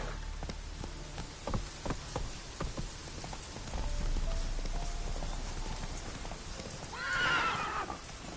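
In The Witcher 3, the horse Roach gallops with rapid hoofbeats while rain patters steadily, and a loud neigh rings out near the end.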